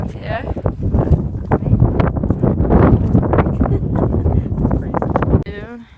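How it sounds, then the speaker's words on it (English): Strong wind buffets the microphone on a snowy mountain summit in Patagonia, a dense continuous roar with gusty rustling lasting throughout, while a person talks over it. "Real windy and snowy up here."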